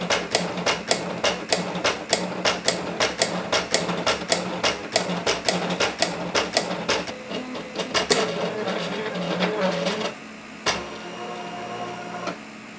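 A Silhouette Curio embossing machine works steadily, its tool head tapping in a fast, regular mechanical rattle with brief pauses and shifts in pace, close and clear with no talking.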